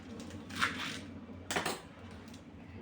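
A knife chops spinach leaves on a cutting board in a home kitchen, with two distinct bright strikes against a faint background.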